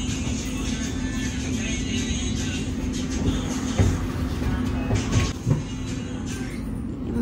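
A metro train in motion, heard from inside the carriage as a steady low rumble with a constant hum and occasional louder clunks and rattles, carrying on without speech.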